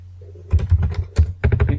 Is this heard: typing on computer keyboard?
yes